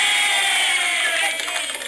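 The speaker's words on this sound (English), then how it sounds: "the kids are going to give you a cheer for that" Kids in a crowd at a Green Bay Packers fan event cheer loudly, a dense, sustained wash of voices that stays strong throughout and dips slightly near the end.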